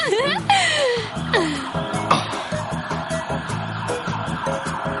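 A wailing police siren rises and falls repeatedly, close by, while people talk and laugh over it.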